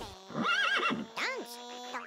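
A whinnying horse neigh from the rhythm battle royale game Headbangers Rhythm Royale, heard in a memory round alongside radio, hammer and cow cues; two short wavering neighs sound up close, with a brief pause between them.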